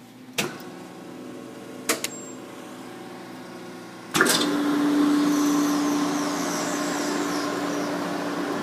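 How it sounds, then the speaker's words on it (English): A few sharp clicks, then the vacuum pump of a 40-ton Wabash vacuum press starts with a thump and runs steadily, a loud droning whir with a faint rising tone. "Vacuum is on."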